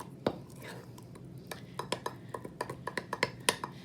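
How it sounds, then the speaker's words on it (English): Metal spoon stirring cupcake batter in a mug, a quick run of sharp clinks and scrapes that grows denser and more rhythmic toward the end, close and fairly quiet. "We're gonna give it a good stir."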